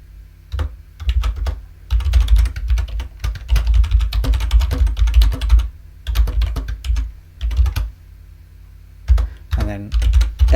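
Keys clatter in rapid bursts on a computer keyboard as Python code is typed, loud and close, with short pauses between runs of keystrokes and no talking.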